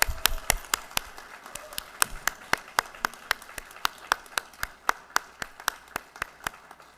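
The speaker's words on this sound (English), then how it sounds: "Now we can all clap." Audience at a college honorary degree ceremony claps in a quick, even rhythm, sharp distinct claps repeating about every third of a second, fairly close and clear, no talking over it.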